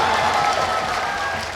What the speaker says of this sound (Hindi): एक बार तालियां बजा